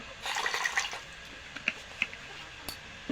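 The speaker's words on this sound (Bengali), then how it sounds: "এটা কেওড়া জল দিয়ে দেব" Kewra water poured into chicken biryani: a brief splashy trickle of liquid up close, then a few isolated drips.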